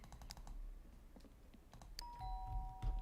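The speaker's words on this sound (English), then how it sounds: "Ding dong." A doorbell in The Sims 2 video game rings with a bright two-tone chime near the end, following a few soft clicks and taps.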